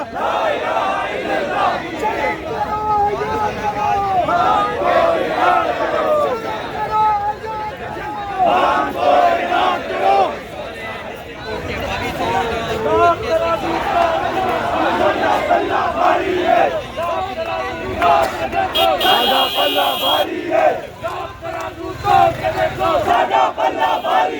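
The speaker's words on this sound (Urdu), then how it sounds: "پی ٹی آئی کے جو ورکر ہیں وہ پہنچ گئے ہیں اور نعرے بازی کر رہے ہیں" A large crowd of PTI workers chants political slogans in loud, rhythmic call-and-response waves at an outdoor gathering, voices massed and continuous with brief dips between phrases.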